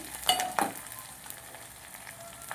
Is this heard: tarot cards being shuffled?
no